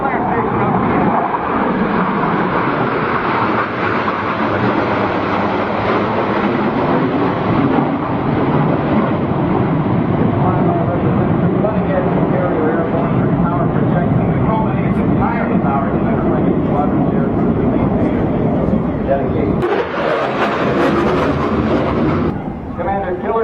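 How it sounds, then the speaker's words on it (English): F/A-18 Hornet and F-14 Tomcat jets from Naval Air Station Oceana make a fleet flyby at an air show, a loud continuous jet roar swelling and sustaining, with a brief sharper burst near the end. "It's the Fleet Flyby with the Hornets and the Tomcat from Naval Air Station Oceana."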